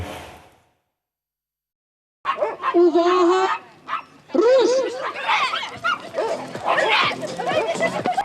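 Dogs bark and yip amid a busy outdoor crowd at a charity run with dogs in Rivne, Ukraine, the barks close and intermittent over several seconds under steady chatter after a brief quiet start.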